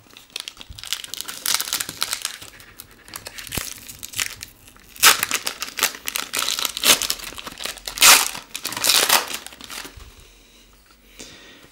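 Foil wrappers on 1993 Fleer Gameday football card packs crinkle and crumple in repeated close bursts, with louder tearing rustles near the middle and toward the end, then quieter handling.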